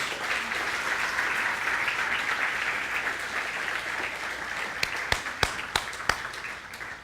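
Church congregation applauding, a dense sustained roar of clapping that fills the space, ending in a few sharp, distinct claps near the close.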